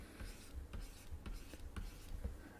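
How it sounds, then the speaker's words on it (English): Pen scratching out a number on paper while working a maths problem, a series of short soft strokes in uneven rhythm, close and fairly quiet with no talk. "you write out the number"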